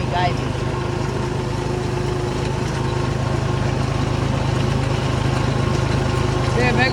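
A large tractor engine runs steadily in a farm field where fertilizer is being spread, a constant loud mechanical drone that continues throughout without pause.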